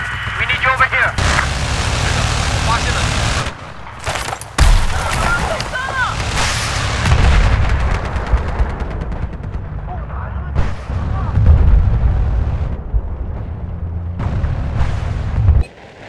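Gunfire and explosions in the PC game Battlefield 4, a dense, loud, continuous barrage of shots and booming blasts across the whole stretch, with brief drops in between.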